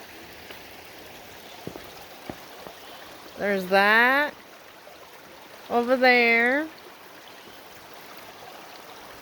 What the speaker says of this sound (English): Just the sound of the water makes it peaceful